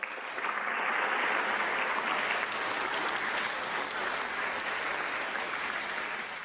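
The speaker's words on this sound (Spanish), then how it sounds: "Recibamos con un gran aplauso a Demis Hassabis." Audience giving a big round of applause to welcome a guest speaker, dense sustained clapping that swells quickly and holds evenly for several seconds.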